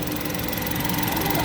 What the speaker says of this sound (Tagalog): Kailangan naka-start ang makina.